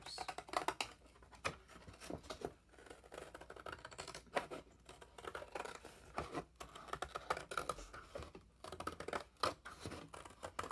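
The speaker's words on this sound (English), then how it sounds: "This cardboard is thin enough that I can cut out my circle with ordinary scissors." Scissors snip steadily through thin cardboard, a quiet run of crisp, irregular cuts close up, with no voices.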